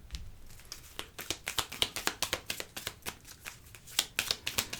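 A deck of fortune-telling cards is cut and shuffled up close, a quick, steady run of crisp riffling snaps and flutters with no voices.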